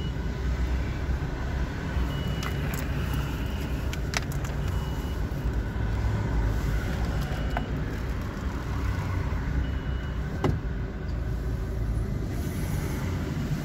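Large caravan slowing and pulling over to park on an Istanbul street, a low, steady engine rumble with rolling road noise and a few faint clicks and knocks, fairly quiet throughout.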